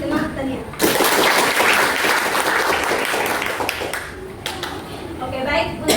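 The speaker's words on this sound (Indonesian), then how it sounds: "Kita berikan tepuk tangan kepada" Students in a classroom burst into applause for their classmate Tania, loud, dense clapping that starts suddenly and continues for several seconds, fading a little and then swelling again near the end.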